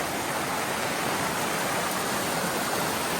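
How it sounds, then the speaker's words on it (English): A raging waterfall swollen by heavy rain roars as a loud, dense, unbroken rush of water close by on a mountain trail. "That is a waterfall."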